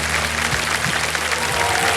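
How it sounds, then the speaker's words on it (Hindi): A TV quiz show studio audience claps steadily in dense, continuous applause, with a voice faintly underneath. "तालियां बज जाए इनके लिए"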